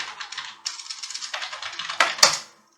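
Close typing on a computer keyboard during accounting software data entry: a quick run of light clicking keystrokes in an uneven rhythm, ending in a couple of sharper key presses before falling silent.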